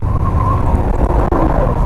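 A steady, close car engine drone in third gear on an uphill slope, with a low rumbling hum and a faint whine, running evenly without a break.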